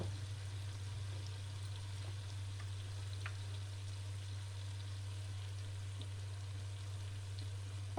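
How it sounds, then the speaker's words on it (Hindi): Ghiya gosht, bottle gourd with meat and turmeric, fries in a pan with a soft, steady sizzle over a constant low hum, faint and even throughout. "अब हम इसको अच्छी तरीके से फ्राई कर लेंगे।"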